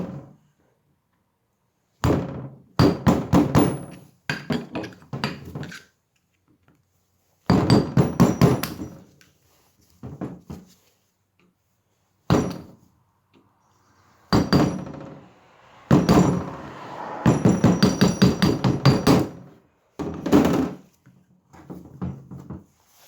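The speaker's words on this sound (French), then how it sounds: "pour retirer le petit cap, vous prenez un tournevis, puis un marteau" Repeated sharp metallic hammer blows on a screwdriver, driven against the small cap on a front wheel hub during a wheel bearing job, come in several bursts of rapid strikes separated by pauses, loud and close with no talking.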